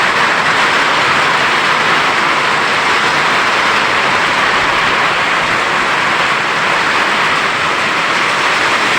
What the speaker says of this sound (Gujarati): ધોળજો વરસાદ આવ્યો મિત્રો.